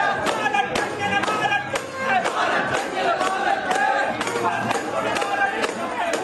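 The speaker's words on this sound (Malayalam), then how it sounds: "പ്രിയപ്പെട്ട നേതാക്കളുടെ വിജയയാത്ര കൈയടിച്ചും മുദ്രാവാക്യം മുഴക്കിയുമാണ് ഇൻകാസ് പ്രവർത്തകർ സ്വീകരിച്ചത്" INCAS party workers in Dubai celebrate an election victory, with a crowd clapping in sharp, uneven bursts while voices chant slogans together over the applause, loud and close.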